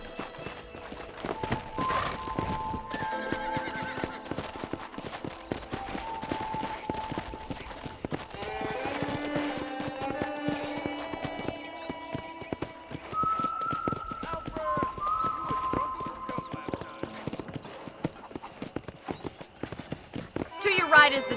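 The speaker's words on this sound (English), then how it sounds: "let's see if you can still ride a horse" A horse's hooves clip-clop and a horse neighs in Red Dead Redemption, with whinnies rising over a ranch setting while someone talks throughout.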